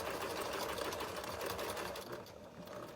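Sewing machine stitching fabric for a face mask, running in a steady, fast mechanical whir of needle strokes that holds throughout and eases slightly near the end.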